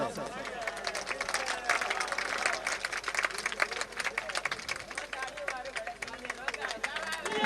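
An audience at a Punjabi mushaira claps in welcome for a local poet, dense rapid applause that swells and wavers over several seconds, with murmuring crowd voices mixed in.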